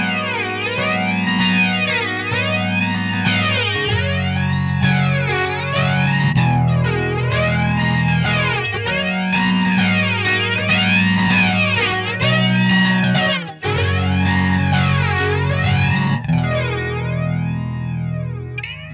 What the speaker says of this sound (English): Super slow flange, love it.